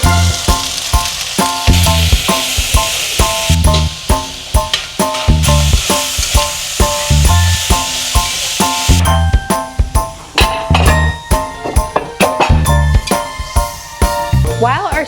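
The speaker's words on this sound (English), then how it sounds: "While our sausage fries here" Sausage fries in a pan with a loud, close, continuous sizzle. Frequent clinks and scrapes of a utensil break through, and the spitting crackle grows brighter toward the end.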